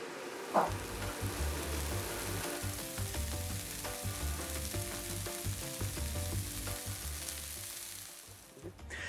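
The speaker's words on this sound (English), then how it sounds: "Now that the pan's nice and hot, we can actually start adding things in." Food fries and sizzles steadily in a hot pan as bolognese gets underway, a dense, even crackle with faint stirring scrapes and one brief clatter near the start, continuing close and loud throughout.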